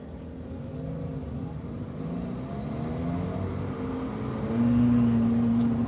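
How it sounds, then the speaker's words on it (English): Car driving along a road at night, heard from inside: a low, quiet engine hum and road rumble that swells slightly toward the end, with no talking. "Kind of boring, just a quiet car."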